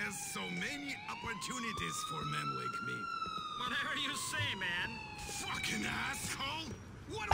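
A police car siren in the video game Grand Theft Auto IV, a wailing tone rising and falling in long sweeps, up close, with a person talking over it and some game noise underneath.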